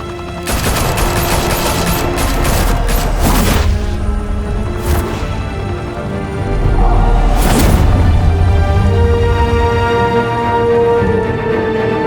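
Heavy gunfire in a Gotham shootout from Batman: The Telltale Series, loud sustained bursts of automatic fire with several distinct volleys and a heavier rumbling barrage near the end, close and dense throughout.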